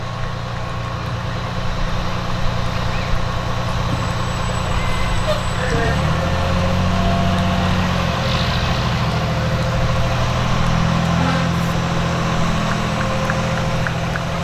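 A fire department engine company truck passes in a Memorial Day parade, a continuous low diesel rumble that shifts gear midway and stays close and steady, with faint talk in the background.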